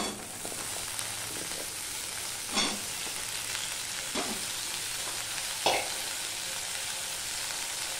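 Cut taro roots hit hot oil in a pan for a hilsa fish curry, giving a steady fizzing sizzle with three sharp stirring scrapes or clatters spaced through it.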